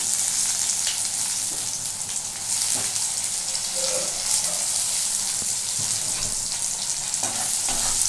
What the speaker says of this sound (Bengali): পেঁয়াজটা আমার খুব সুন্দর করে মোটামুটি ভাজা হয়ে গেছে।